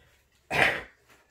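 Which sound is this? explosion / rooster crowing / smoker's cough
smoker's cough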